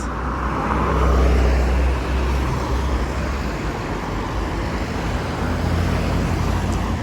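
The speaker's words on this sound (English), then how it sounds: "We got a lot of traffic today." Dense city street traffic in Frankfurt rumbles steadily and loudly, with cars and heavier vehicles passing close by in a continuous wash of road noise.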